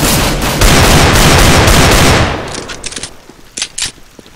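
Rapid automatic gunfire from Counter-Strike GO on the Aztec map rattles loud and close for about two seconds, then breaks into a few scattered, fainter single shots.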